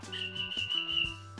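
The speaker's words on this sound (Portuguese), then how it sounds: "Já tá aqui usando o apito." A referee whistle blown once in a steady, sustained shrill tone lasting just over a second, sounding close and fairly clear over low background music.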